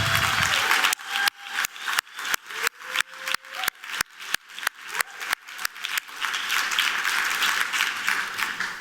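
An audience at a design conference gives a round of clapping that swells in sharp bursts, then settles into a steady, dense patter of applause.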